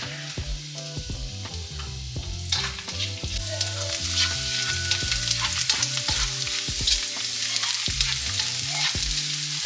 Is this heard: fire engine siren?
no